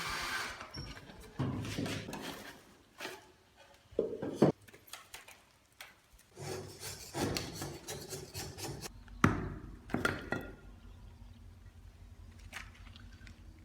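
A plaster mold cast over a sculpture model is broken apart by hand, giving irregular knocks, cracks and scraping rubs with quieter gaps between them, close up and fairly soft.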